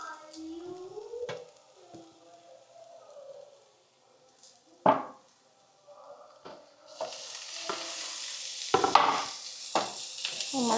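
Tomatoes go into a pan of sautéed onions for pasta, setting off a rising close sizzle that fills the second half, with scraping stirs and a few spatula knocks against the pan, no talking.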